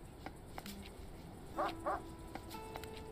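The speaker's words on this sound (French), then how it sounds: "Ah, le chien-chien, il est là." A dog in the farm-animal DLC of the video game Mr Prepper gives two short, quiet barks in quick succession amid soft game sounds and chimes.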